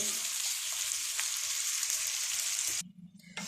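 Onions sizzle and fry steadily in hot oil for fish biryani, a loud bright hiss that cuts off abruptly near the end, leaving a quieter low bubbling.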